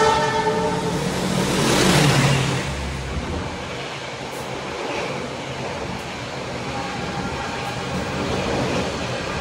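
A long-distance economy passenger train rumbles along the rails at speed, a continuous loud roar with rattling and a brief horn-like tone near the start.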